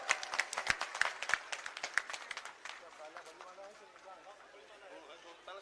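Scattered claps at first build into brief applause at a political rally for Akash Anand in Nagina, then fade into a murmur of voices and light crowd noise.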